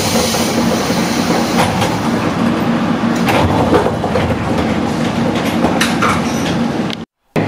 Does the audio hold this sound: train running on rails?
yes